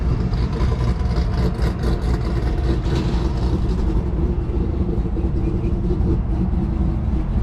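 A tuned car engine runs loud and near, rumbling through a sustained rev with a slight easing toward the end.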